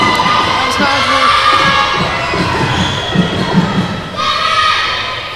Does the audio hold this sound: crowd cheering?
yes